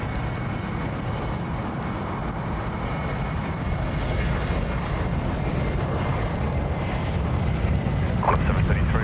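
A Qantas airliner departing Sydney Airport for Brisbane gives off a steady, heavy jet engine roar that slowly builds in loudness, with wind buffeting the microphone and a voice talking at times.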